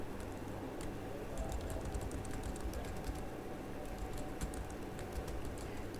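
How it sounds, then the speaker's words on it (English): Steady clicking of keys on a computer keyboard while a list is made in Microsoft Word, light rapid taps continuing throughout, close and alone. "type star and press the tab key"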